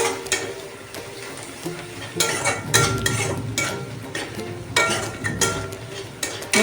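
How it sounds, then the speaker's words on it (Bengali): A spoon scrapes and stirs salt, turmeric and spices in a pan for a mourala fish jhal curry, in short repeated bursts of scraping against the pan amid a soft background hiss. "নাড়িয়ে নিই।"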